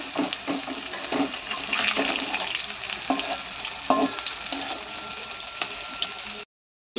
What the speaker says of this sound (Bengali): দেখতেই পাচ্ছেন আমি ছেড়ে দিয়েছি বেগুনি